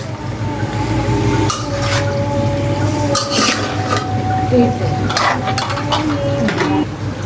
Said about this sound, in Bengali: আমি এখন এগুলো একটু নাড়াচাড়া করে নেবো